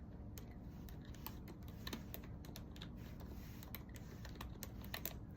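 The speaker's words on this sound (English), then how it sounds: "love the sound of the keys. Now I have fake nails on right now, so it is giving a little extra clack." Soft, creamy mechanical keyboard typed on with fake nails that add an extra clack: steady rapid keystrokes, close and clear, with no voices, over a faint continuous background hum.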